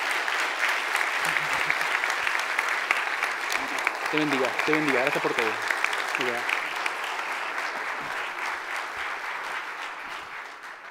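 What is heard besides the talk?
congregation applause for the pastor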